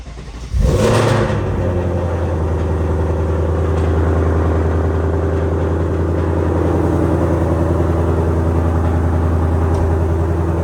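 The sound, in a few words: supercharged Ford Mustang Dark Horse engine starting and idling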